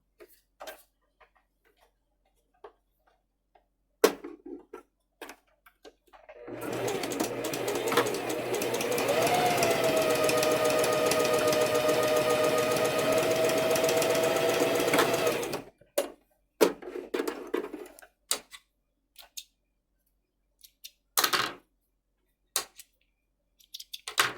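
A domestic sewing machine runs a zigzag stitch at a steady, close, moderately loud whir for about nine seconds, framed by quiet handling clicks and taps before and after.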